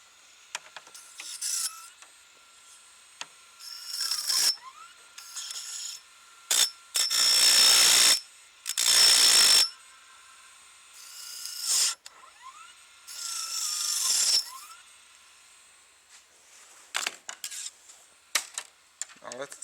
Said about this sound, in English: grind these against the drum while it's spinning